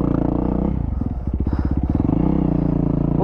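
A Yamaha WR450F dirt bike engine labours and putters up close on a hot day, its pitch dipping and chugging unevenly as it strains under load and overheats.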